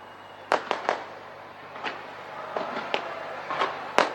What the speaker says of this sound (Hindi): आतिशबाजी के साथ अलग अलग जगहों पर, अलग अलग वक्त पर इसे सेलिब्रेट किया जा रहा है